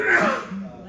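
One short sneeze bursts out close by, clipped and breathy with a throaty edge, and a voice follows right after it.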